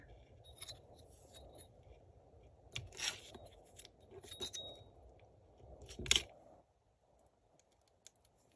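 Scissors or a blade trimming thick sugar paste for a Halloween cake decoration, a few soft snips and clicks scattered over a quiet background, close and faint.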